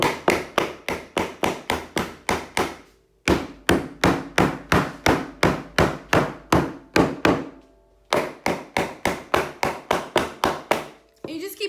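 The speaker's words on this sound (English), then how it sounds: "then you're just gonna keep pounding it down to get it into place." Hammer blows pounding a wooden joint of a beginner's sofa C-table into place, loud, close and rhythmic, falling in three fast runs of about a dozen strikes each with brief pauses between.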